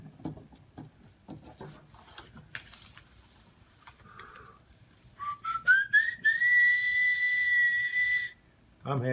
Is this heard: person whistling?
yes